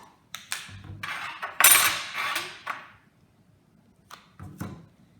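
A knife spreads butter across slices of bread, giving loud scraping strokes over about two seconds, then a pause and a few fainter scrapes and clicks near the end.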